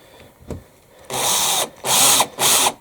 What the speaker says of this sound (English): once you start drilling